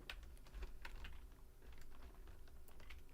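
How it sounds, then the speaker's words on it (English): Computer keyboard keys clack in a faint, uneven scatter as they are stepped on, blending into a constant low background hum with no speech. "You just get stepped right all over the keyboard"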